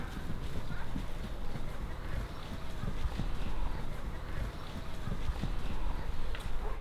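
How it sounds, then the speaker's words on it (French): A mare trots briskly on grass in a pasture with other horses, hoofbeats thudding in a steady, fast rhythm throughout, fairly close and continuous, with no talking. "elle prend même pas la peine de galoper et se contente d'allonger le trot"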